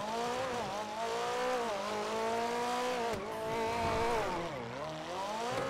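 A loud car exhaust drones continuously, rising and falling in pitch as the engine revs up and down, close and steady throughout.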